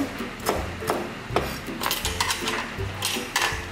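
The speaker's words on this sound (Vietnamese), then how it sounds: "hành tím các bạn đập dập băm nhuyễn" A knife smashes and minces shallots on a board. Sharp, irregular knocks and clicks come at close range over soft background music.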